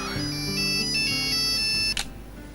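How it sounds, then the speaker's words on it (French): A telephone ringtone plays in an electronic, warbling melody, steady and fairly loud, cutting off abruptly near the end with a brief click as the call is picked up. "Décroche, ça sonne."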